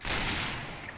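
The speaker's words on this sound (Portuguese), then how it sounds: "Dois tiros pra matar, GG." Sniper rifle gunfire in the Point Blank shooter game, a loud sharp burst of shots filling the one-second moment with a dense noisy crack and fading tail, no talking over it.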